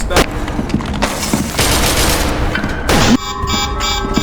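Loud game gunfire and booming blasts in rapid bursts, with a voice shouting over the chaotic battle noise.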